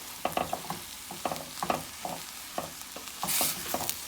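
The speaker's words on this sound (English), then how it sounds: "So when you fry up the rice with the onions and the bay leaf like that" Rice frying with onions and bay leaf in a pan for Mexican rice, a soft sizzle under a series of brisk scraping stirs, with a brief louder hiss near the end.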